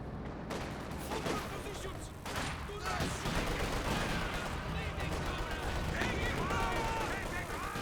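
Gunfire in Company of Heroes 2 battle crackles as overlapping volleys and bursts, fairly faint and continuous, with a steady rumble of battle noise underneath.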